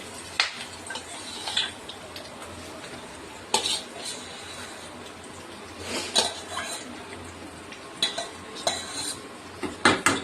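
Tempering (popu) frying in a pan with utensils clinking and stirring against the cookware, sharp metallic scrapes and taps recurring every second or two over a faint background sizzle.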